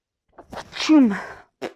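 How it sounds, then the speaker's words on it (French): A single sneeze from a French-speaking woman, a short breathy intake followed by a loud voiced burst that falls in pitch, then a brief exhale, heard close and alone. "Le fait que j'éternue comme ça"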